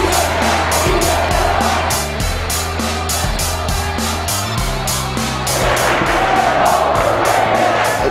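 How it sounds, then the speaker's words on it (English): A high school basketball crowd in a packed gym roars and cheers continuously, a dense loud wash of voices with whoops rising and falling throughout. "Every time you come out and the crowd is like that, just gets you riled up."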